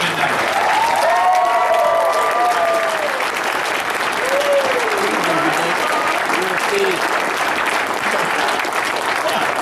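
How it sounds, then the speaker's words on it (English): An audience at the closing of a YAL Boston gathering breaks into loud, sustained applause, a dense wash of clapping that carries throughout while voices call out over it. "Big round of applause."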